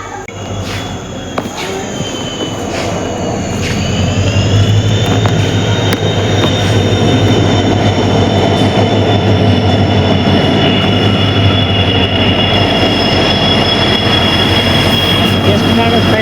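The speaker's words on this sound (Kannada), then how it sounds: "ಟ್ರೈನ್ ಬಂತು ಗೈಸ್ ನೋಡಿ, ಅಲ್ಲಿ ಬರ್ತಾಯಿದೆ" A train arriving and passing at a railway station, a loud steady rumble of wheels with a high metallic squeal, building over the first few seconds and holding close and continuous.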